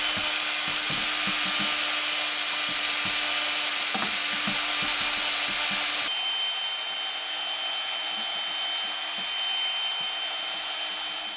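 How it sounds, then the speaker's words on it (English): A drill fitted with a stir tool whisks JADAM wetting agent in a bucket, a steady high motor whine running nonstop with faint sloshing and knocks, dropping slightly in pitch and level partway through. "I got my drill. So 5 minutes, we're just gonna go ahead and whisk this up."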